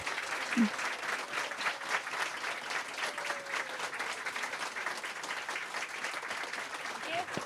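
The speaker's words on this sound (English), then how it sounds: "let's give Karin a round of applause" An audience at an author event for Karin Slaughter applauds steadily for several seconds, a dense, even wash of clapping heard from within the room, fairly soft overall.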